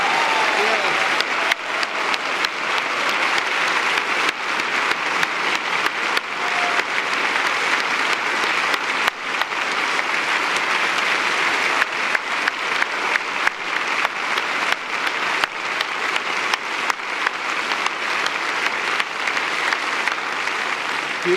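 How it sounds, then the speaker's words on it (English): An audience at a town hall forum claps in a sustained, even round of applause that stays loud and dense for the whole stretch, with no voices rising above it. "Another round of applause."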